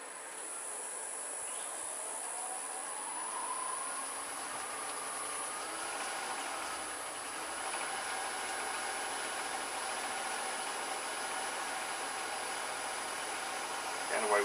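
A wood lathe spins a holly blank, roughing a natural-edged bowl with a half-inch long-grind bowl gouge, giving a steady, continuous whirring hiss with a thin high whine throughout.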